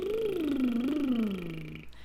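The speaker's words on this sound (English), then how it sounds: "My personal favorite is the tongue raspberry." A tongue raspberry (lip-and-tongue trill) done as a vocal warm-up: one continuous buzzing, voiced tone that glides down, rises briefly and falls again over about two seconds, close and fairly steady, with no other sounds.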